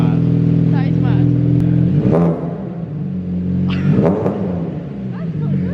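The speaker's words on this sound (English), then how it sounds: "Start the car, it's a little sound test now." A Mini Cooper fitted with a loud custom exhaust rumbles close by, with deep idle tones broken by two sharp revs, and a voice briefly audible over the engine.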